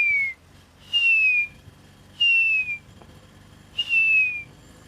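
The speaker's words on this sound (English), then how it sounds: "in the background you can hear the whistling call, perhaps, of the grey hornbill" Clear, descending whistled notes of a grey hornbill repeat about four times at even intervals, each a short mournful call over a quiet background.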